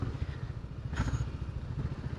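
A motorcycle cruises at about 60 km/h on an open road at night, its engine a low, steady, rhythmic pulsing throb heard close up with faint clatter and no talk.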